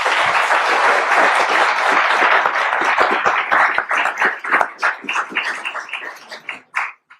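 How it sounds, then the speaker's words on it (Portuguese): Applause from a lecture-hall audience welcoming a speaker at a Brazil conference on social reform, a dense steady wash of many clapping hands that thins into scattered individual claps before fading out. "Um salve de palmas, por favor."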